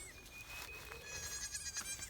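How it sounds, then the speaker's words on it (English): Small young goats bleat faintly in a farm pen, thin wavering cries drawn out over a couple of seconds against a steady background hiss, somewhat distant. "So I'll show you these cute little goats."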